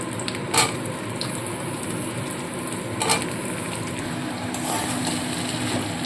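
Steady close sizzling of potato and eggplant frying in hot oil, a continuous crackling hiss with occasional louder spatters or stirring clatters.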